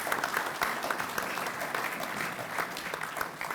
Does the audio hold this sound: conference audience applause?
yes